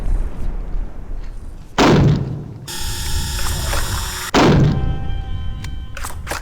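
Gunshots in the horror video game Blood Mall: two heavy, booming shots a few seconds apart, loud and close, separated by a low rumbling ambience with a steady synthetic tone.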